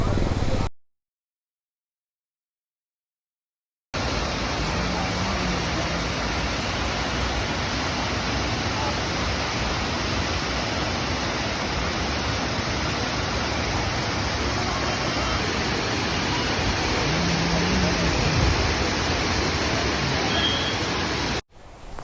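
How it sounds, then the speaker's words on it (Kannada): A waterfall in Kodaikanal, heard as a dense, steady rushing roar of falling water that fills the scene. A brief dropout comes early, then the roar runs on without a break. "ನೋಡಿ ಗೈಸ್ ಹೇಗಿದೆ ಫಾಲ್ಸ್"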